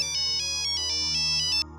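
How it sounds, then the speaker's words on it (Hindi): A phone ringtone for an incoming call plays a quick, bright electronic warbling pattern of repeated pulses for under two seconds, then cuts off abruptly. "दुबे जी का फ़ोन आया है"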